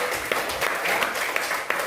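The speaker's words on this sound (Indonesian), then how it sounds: "tepuk tangan buat kelompok bunga matahari" Classroom applause for a student group named for sunflowers during a lesson: scattered, uneven clapping with individual hand claps standing out, brief and fairly close.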